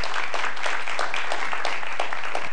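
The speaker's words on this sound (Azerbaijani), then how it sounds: "Alqışlayırıq." An audience of Azerbaijan State Pedagogical University students applauds to welcome guests, a continuous even patter of many hands clapping indoors with no voices over it.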